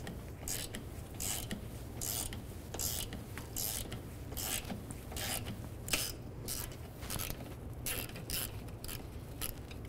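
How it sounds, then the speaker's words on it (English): Ratchet with a 10 mm socket working a bolt free at the rear wheel axle assembly of a 2013-2018 Toyota RAV4, making a steady run of rhythmic clicking strokes over a constant background hum, up close. "I'm going to start here at the wheel axle assembly and break that bolt free."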